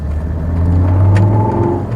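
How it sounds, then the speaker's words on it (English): A manual Volvo V70's five-cylinder engine revs with an offbeat, snorty warble, a loud, close, steady drone that swells slightly as it climbs, with no one talking. "It has a really snorty 5-cylinder offbeat warble about it"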